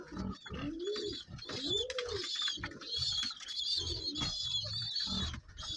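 Pigeons feeding their squabs beak to beak, close rhythmic cooing and wheezy, rattling begging calls mixed with flapping and pecking noises, continuous without speech.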